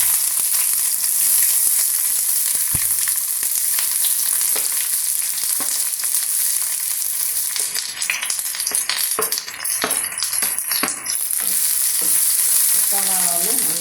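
Chopped onions hit hot oil in a pan while making tomato pickle, producing a steady, close, bright sizzle with intermittent stirring clatter and scraping throughout, no voices.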